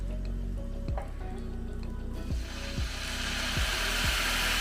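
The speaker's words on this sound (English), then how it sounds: "To that, I am going to add some orange liqueur." Orange liqueur is poured into a hot pan of melted sugar and butter for crêpe Suzette sauce, setting off a loud rushing sizzle that swells halfway through, with repeated clinks and knocks from the pan.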